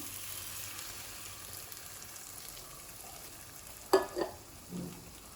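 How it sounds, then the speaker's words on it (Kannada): Cooked toor dal is stirred into fried fenugreek leaves in a pan, a faint low sizzle with a couple of soft scraping stirs near the end. "ಈಗ ಇದನ್ನು ಚೆನ್ನಾಗಿ ಮಿಕ್ಸ್ ಮಾಡ್ಕೋಬೇಕು"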